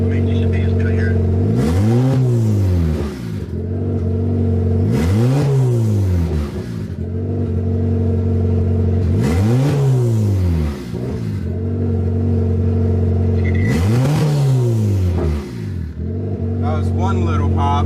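Hatchback engine fitted with a crackle/pop tune, still cold, revved four times in repeated rising and falling sweeps over a steady idle, with a faint exhaust pop after a rev and voices talking in the background.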